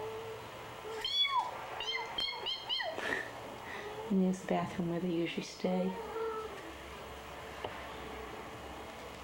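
Kittens meow in a short burst of high, repeated calls early on, with a mother cat nearby, while a person talks over and after them indoors near a bathroom.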